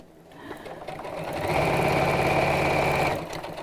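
A sewing machine stitching a fabric gift bag: a steady, close mechanical whir that ramps up and runs evenly for about two seconds, then slows and stops.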